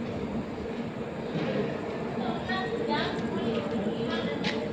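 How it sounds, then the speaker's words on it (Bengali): Coromandel Express train at Shalimar station in Kolkata late at night, a steady rumbling railway hum with faint clanks, heard alongside ongoing voices nearby. "এই সেই করমন্ডল নতুন রূপে আবার করমন্ডল দেখা দিল কলকাতায়"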